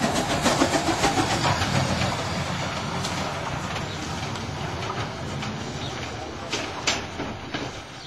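Steam locomotive 200.05 of the FNM running round its train at a lakeside station near Monte Isola, a steady broadband rumble with faint rhythmic clanks and hissing that fades slightly over the seconds.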